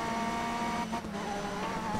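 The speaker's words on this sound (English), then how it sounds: "It definitely lets you know when you're on boost." A race car in the video game TOCA Race Driver 3 running on boost gives a steady, loud engine drone with a sustained high whine, continuous for the whole stretch and barely dipping, with no voices.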